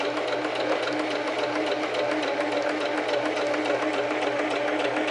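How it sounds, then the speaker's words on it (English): A sewing machine stitches a seam in a basic skirt, running as a steady, continuous mechanical whir throughout at close range with no pauses and no voices. "I'm going to sew till I get to the top"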